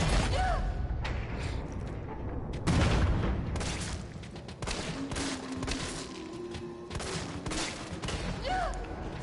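Shotgun blasts and other gunfire from the survival horror game Resident Evil 3 ring out as loud booming shots among clanking weapon mechanisms. A voice speaks briefly during the shooting.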